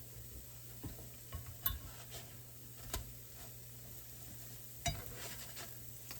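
Cornbread fries flat in a pan for a Carolina barbecue meal, giving a faint, steady sizzle with scattered soft scrapes and clicks of a utensil stirring or flipping, quiet and close with no talk.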